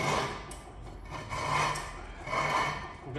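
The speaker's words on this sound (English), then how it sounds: "we'll maybe just take a wee scraper to the edge of the disc" A small scraper rasps against the edge of a brake disc on a Vauxhall Astra, three rhythmic scraping strokes about a second apart, close up and fairly quiet.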